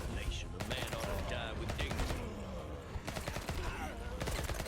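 Rapid video-game gunfire from the shooter Bloodshed crackles in dense bursts alongside a loud soundtrack, continuous and busy throughout.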